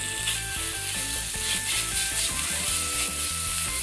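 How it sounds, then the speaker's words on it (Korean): Sliced pork belly frying in a pan for carbonara, a constant close sizzle and crackle running throughout, layered with a mechanical rhythmic clicking. "삼겹살은 이제 잘라주시고 삼겹살을 볶아주세요."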